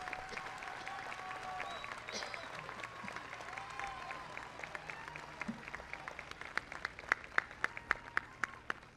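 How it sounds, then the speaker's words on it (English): A graduation audience at Santa Monica College applauds faculty and staff with sustained clapping. The clapping grows denser and louder toward the end, and a voice is heard faintly near the start. "join me in giving a round of applause to this"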